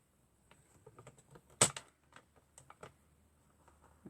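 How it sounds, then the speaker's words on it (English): A paper trimmer slices through card stock during card making, giving a series of light, close ticks and clicks with one sharper snap partway through. The clip is otherwise quiet, with no talking. "I do have to use the cutter, and I think I'll do it on this side."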